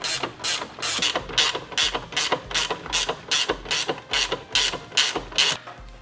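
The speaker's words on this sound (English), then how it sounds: "let's unbolt these horns" A hand ratchet unbolts the horns on a Lexus ISF, about a dozen evenly spaced clicking strokes in a steady back-and-forth rhythm, close and distinct with no speech.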